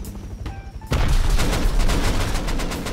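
AK rifle fire in a video game comes as a sudden dense burst of loud rapid shots after a brief quieter moment, continuing without a break to the end.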